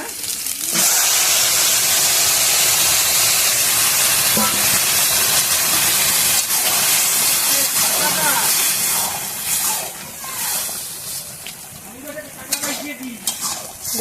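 Boiled taro and bottle gourd stems hit a hot pan with a sudden loud sizzle that keeps hissing while they are stirred, fading somewhat toward the end as a voice comes in.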